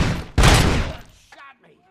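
A burst of gunfire in the video game RoboCop Rogue City, one loud, heavy blast that trails off quickly, followed by brief faint noises.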